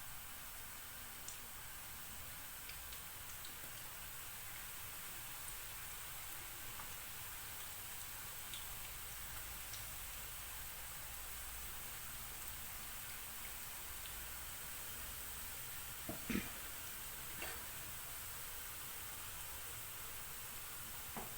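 Steady, hissing crackle of manti dough sheets frying in hot oil, continuous and fairly quiet, with a few sharper pops near the end.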